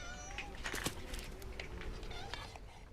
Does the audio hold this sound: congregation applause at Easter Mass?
no